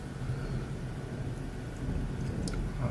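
Low rumbling thunder from a major thunderstorm in Peterborough, Ontario, a sustained deep roll heard from indoors with a faint crackle near the end.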